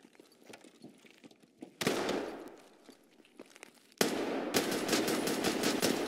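A Mosin rifle in a video game firing twice, with an abrupt loud crack and echoing tail followed later by a second sharp, sustained burst of noise, after quieter footsteps and shuffling.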